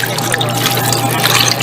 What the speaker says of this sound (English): then add some water